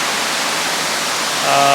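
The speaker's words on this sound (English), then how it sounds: "I also got a waterfall behind me" A waterfall roars behind someone standing in a dark outdoor spot, a loud, dense, continuous rush of falling water, with a hint of voice rising at the end.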